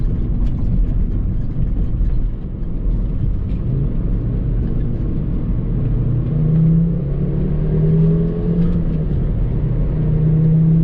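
A Volvo V70R wagon's engine pulls at partial throttle, a steady in-cabin rumble with engine tone rising gradually over several seconds, no talking.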